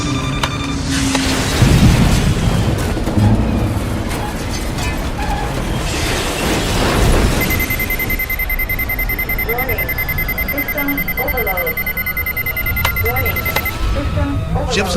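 In a radio drama, a probe ship's crash landing is staged with a rumbling impact, a steady electronic alarm beep and mechanical rattles. A voice speaks urgently over the loud effects.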